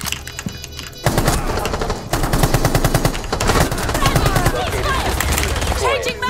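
Rapid automatic gunfire in the video game Rainbow Six Siege, loud and sustained bursts of close shots with overlapping rattling fire, continuing almost without pause.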